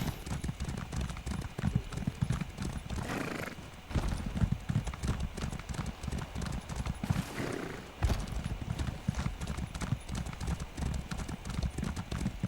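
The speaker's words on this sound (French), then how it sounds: "Il y a un cheval." Horse hooves clip-clop in a quick, steady rhythm in the video game The Elder Scrolls Online, close and loud, with a brief pause midway and a whinny-like burst near the start.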